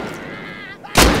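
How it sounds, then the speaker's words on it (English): Rust gameplay with one loud, close gunshot blast near the end of a short stretch of game noise, sudden and booming. "They're shooting."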